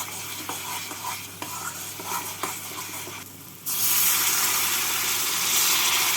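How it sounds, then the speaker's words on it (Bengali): Katla fish kalia gravy stirred in a pan after hot water is poured in, a few scraping spoon strokes over a low simmer, then a sudden loud, steady hiss and sizzle, close, no talking. "জল দিয়ে নাড়াচাড়া করে ঝোলটাকে ফুটিয়ে নেব"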